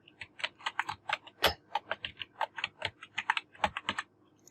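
Fingers type on a computer keyboard in a quick, irregular run of crisp key clicks, with one heavier keystroke partway through and brief pauses between groups of keys.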